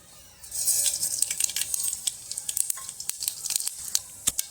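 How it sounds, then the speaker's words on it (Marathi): Mustard seeds pop and crackle in a small pot of hot oil, a steady sizzle broken by sharp, irregular snaps that thin into scattered louder pops, close and clear with no voices. "मोहरी छान तडतडली की"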